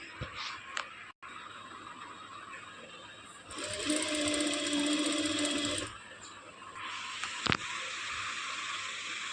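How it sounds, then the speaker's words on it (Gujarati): A sewing machine stitches in a quiet room, running at a steady whir for about two seconds with faint clicks and handling noises before and after. "અને હવે આપણે સિલાઈ લગાવીશું"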